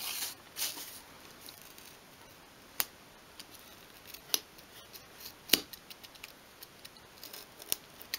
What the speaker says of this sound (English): And we're cutting with the grain